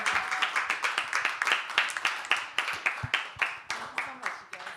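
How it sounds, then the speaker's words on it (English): A small audience at a conversation event about vinyl records claps in a fairly even rhythm, bright close hand claps repeating for several seconds under faint background voices. "Give them a round of applause."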